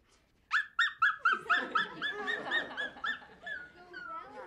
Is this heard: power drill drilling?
no